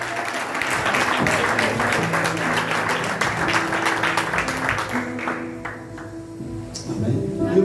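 A church congregation applauding, a sustained crowd clapping with music and voices underneath, thinning out toward the end.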